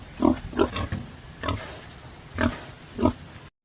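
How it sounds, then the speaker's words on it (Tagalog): A penned pig grunts in five short, fairly loud bursts spaced across a few seconds, heard close with no talk over it. "ipakita ko na sa inyo yung aming alaga na pinahing baboy"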